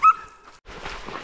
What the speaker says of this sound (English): Dogs are up there.